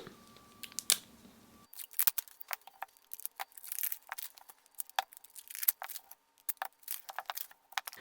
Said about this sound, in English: So I'm just going to go ahead and take all these plasticky bits off them.